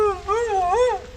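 A dog on an off-grid homestead lets out a drawn-out, wavering whine, almost a soft howl, rising and falling for about a second, fairly close and clear.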